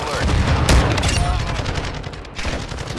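Shotgun blasts in Call of Duty DMZ at Tsuki Castle, a loud sharp shot near the start followed by rattling bursts of gunfire, with a voice briefly speaking.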